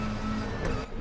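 Race car engine in the R3E racing game at Sonoma with a GT3 car, a steady loud drone with a brief rise near the middle as a quick shift into third gear comes through.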